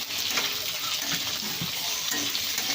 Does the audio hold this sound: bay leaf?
yes